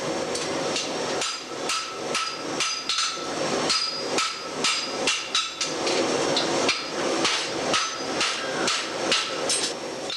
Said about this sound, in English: The clanging of the hammer on the anvil is a sound once heard in blacksmith shops across the nation.